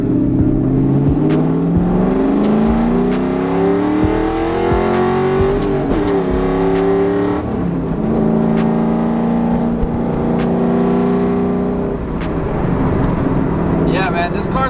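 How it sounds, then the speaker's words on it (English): A 700hp car with a built transmission makes a hard pull, its engine revving up through successive gears with rising then dropping tones at each shift, loud and continuous from inside, with a voice speaking over it. "Be the last pull for the day because I've been beating up on this car pretty good today."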